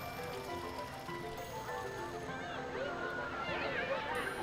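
Water fountain in the video game Wanderment, a continuous trickling and splashing layered with bright chiming tones, while a person talks over it.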